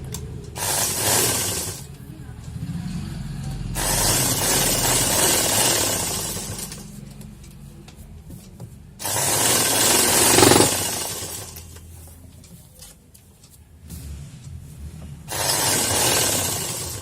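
An electric sewing machine stitches the edge of a saree in several loud bursts of rapid mechanical whirring, separated by quiet pauses while the fabric is repositioned.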